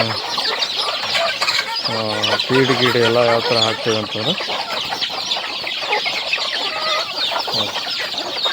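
Native country chickens cluck loudly and close by in a run of overlapping calls, while someone talks over them.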